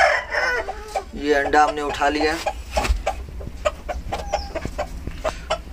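Hens in a small coop cluck and squawk close by, with a brief crow-like call, while a person talks quietly over the birds.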